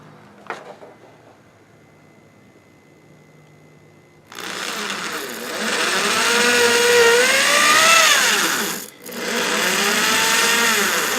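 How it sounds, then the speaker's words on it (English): An electric drill starts up and bores a hole square through a workpiece over a bench, its loud motor whine rising and shifting in pitch, with a brief dip near the end before resuming. "Sighting down the drill to make sure that it's drilling square."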